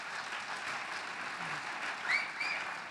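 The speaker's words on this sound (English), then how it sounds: "Round of applause for Cindy for sure." Audience applause at a shopper-marketing awards gala, a moderate, steady patter of many hands clapping throughout, with brief faint squeaks or whistles rising near the end and no speech.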